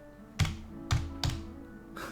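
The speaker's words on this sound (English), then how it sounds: "I'm typing on my computer instead of on my iPad." Typing on a computer keyboard: three distinct, fairly loud key thunks at uneven intervals, then a softer fourth press at the end, close by with no talk.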